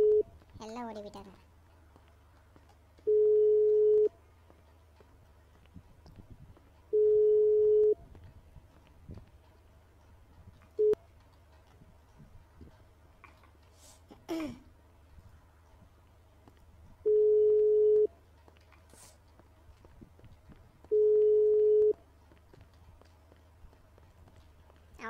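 Repeating ringback tone of an unanswered phone call in a GTA roleplay game, about five steady beeps of a second or so each with long pauses between, alongside faint footsteps and scattered game noises.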